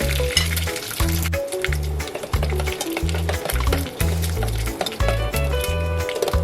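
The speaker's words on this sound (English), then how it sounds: "Now I'm going to fry the anchovies. Fry until golden, until crispy." Anchovies frying in a home kitchen pan, a loud close sizzle with crackling spatter and a few clinks from stirring, set against a repeating low background music beat.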